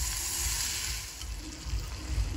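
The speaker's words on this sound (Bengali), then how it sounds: "এবার সব কিছু দিয়ে আরও কিছুক্ষণ ভেজে নেব।" Spices sputter softly in a pan of oil for egg curry, a faint, steady sizzle over a low rumble, with no voices.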